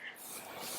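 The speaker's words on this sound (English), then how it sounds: "I want to visibly see the setting spray on her face" A short, breathy hiss of setting spray misted onto a face during bridal makeup, close and steady, lasting under a second.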